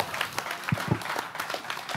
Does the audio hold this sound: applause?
yes